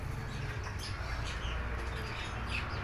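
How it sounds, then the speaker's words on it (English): Birds chirp outdoors at a yard where chickens and other animals are kept, with faint scattered calls over a steady low rumble of background noise. "So there's so many birds"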